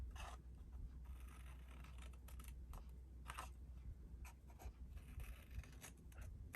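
Scissors or a craft blade cut through a cardstock Christmas treat carton along a score line, giving quiet, intermittent snips and scraping strokes close by, with no talk.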